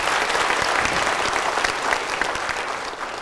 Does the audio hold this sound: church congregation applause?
yes